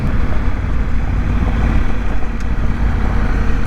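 A Honda Africa Twin motorcycle rides along a winding gravel road in third gear at about 22 mph, its engine a loud, steady low rumble mixed with wind and road noise throughout, with no talking.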